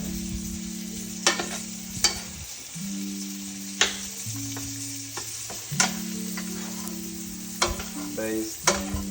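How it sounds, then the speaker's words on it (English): A pork chop basted with butter in a hot pan sizzles steadily, with repeated spoon scrapes and clinks against the pan at close range, and no talk. "Baste, baste, baste. Smells all that butter"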